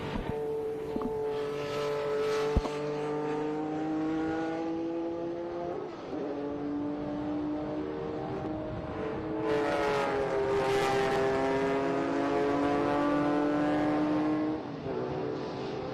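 IROC race cars, air-cooled Porsches, roar around the track with sustained high-revving engines, pitch sweeping through gear changes as several cars pass close and loud without pause.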